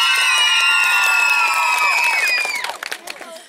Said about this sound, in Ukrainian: ваші оплески для Насті!